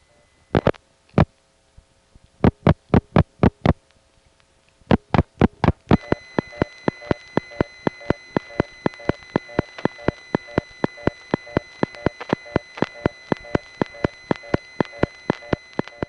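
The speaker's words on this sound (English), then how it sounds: "You hear the steady squeal plus the pitch-bending fast-busy signal" Telephone exchange tones from a 1970 phone line near Kennedy Airport and Laurelton: scattered clicks, then a steady squeal under a rapid, even train of fast-busy pulses. The line sounds loud and close, with no talking.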